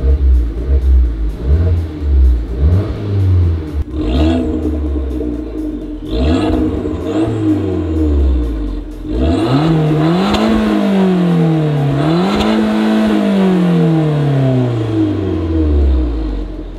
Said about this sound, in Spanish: vamos a tocarle un poquito al gas y a ver qué tal suena este Abarth 595